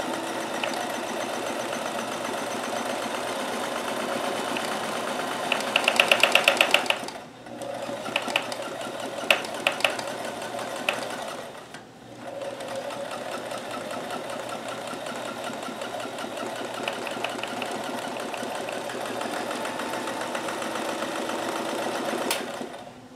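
A Kenmore super high shank sewing machine runs with a free motion hopping foot, a steady close whirring hum with rapid needle chatter, pausing briefly twice before resuming at an even pace, no voices.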